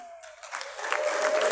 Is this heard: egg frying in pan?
no